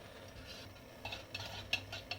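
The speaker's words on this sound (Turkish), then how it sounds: "topaklanmasını gidene kadar öncelikle karıştırıyoruz" A spoon stirring homemade rice-milk baby food in a pot, quiet scraping with soft metallic clinks that come faster toward the end, no voices.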